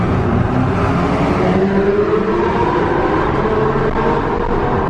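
A Rolls Royce Ghost driving through tunnels, its exhaust a loud, steady, echoing drone with a slowly rising engine tone, heard close and without talk.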